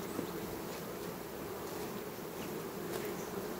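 Honey bees buzz around beehives at an apiary, a dense, even, continuous hum of many insects close by, with no voices over it.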